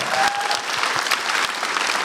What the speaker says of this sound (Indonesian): Tepuk tangan lu buat Ridwan Remen